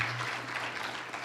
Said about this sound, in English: let's give one round of applause for Texas and for Liberty International World Conference